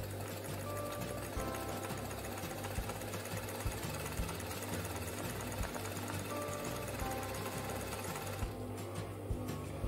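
An embroidery sewing machine stitches steadily, driven by its foot pedal while working a straight stitch, with a loud, fast, continuous mechanical chatter that runs the whole time and no voices over it.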